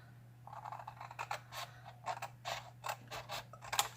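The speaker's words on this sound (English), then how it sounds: "we want to cut off that little tiny edge right there" Cardstock for an extra large pop-up card being cut along a score mark, heard as a series of close, short scraping and creaking strokes in an uneven rhythm over a low steady hum, with no voices.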